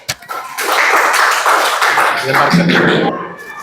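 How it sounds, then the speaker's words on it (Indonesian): Students clap together in a classroom for group 3, a brief burst of dense, close clapping lasting a few seconds with voices mixed in underneath. "Tepuk tangan untuk kelompok 3."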